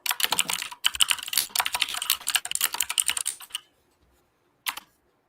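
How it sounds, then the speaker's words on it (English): Rapid clicky keystrokes on a mechanical keyboard, typed in quick continuous bursts for several seconds, then a pause and one short final flurry, with no talking. "that's a mechanical keyboard right there. I know that sound."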